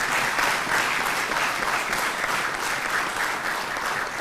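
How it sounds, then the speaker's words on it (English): Sustained applause from a large audience honouring the families of nineteen retiring Ugandan army generals at a UPDF retirement ceremony, steady dense clapping throughout without a break. "Clap for those families."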